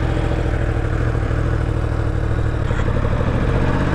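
Yamaha MT-09 motorcycle engine running steadily at idle, a loud continuous low rumble close by with no talk over it.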